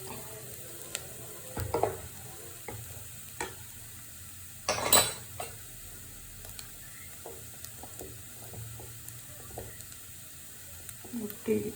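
A spoon stirs boiled, mashed jackfruit seeds in a frying pan for a Kerala thoran, with a soft steady sizzle broken by scattered scrapes and clinks against the pan, close by and with no talking.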